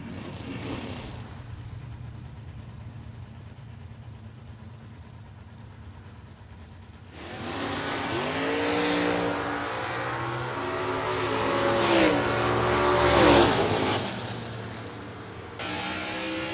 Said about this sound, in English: the orange Camaro on the left side. The black Camaro on the right side.